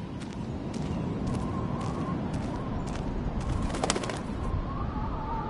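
Birds coo in the video game Life Is Strange, a soft repeated dove-like murmur under a steady ambient outdoor bed, with brief chirps and rustles layered on top.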